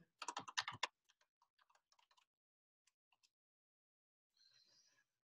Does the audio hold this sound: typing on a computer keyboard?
yes